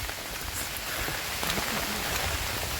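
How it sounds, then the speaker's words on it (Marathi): Steady rain patters continuously on surfaces and foliage during a monsoon trek to Mahimatgad fort in Ratnagiri, a dense, even hiss with no voices. "पाऊसला पावसाला सुरुवात झाली आणि आम्ही रेनकोट देखील घातले"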